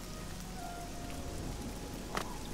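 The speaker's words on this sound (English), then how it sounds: "It's raining in Oblivion." Steady rain falls in The Elder Scrolls IV: Oblivion, a continuous even hiss of drops on surfaces, with one brief brighter splash near the end and no talk.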